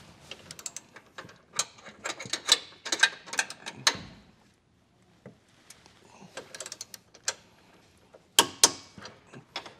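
A torque wrench ratchets as base plate bolts are tightened on a 2022 Jeep during a Roadmaster Direct-Connect kit installation: bursts of close, crisp clicks with short pauses between runs.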